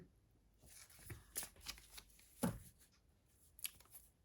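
Tarot cards are shuffled and slid in quiet bursts up close, a few crisp riffles and flicks separated by short pauses, no voices.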